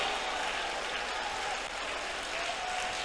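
A congregation at an IPC prayer centre church service claps vigorously together, producing a dense, even wash of applause that holds steady throughout.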